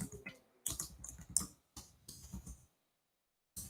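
Quick bursts of typing on a computer keyboard, clustered keystrokes with short pauses and a silent gap before a final tap, close and clear with no talking.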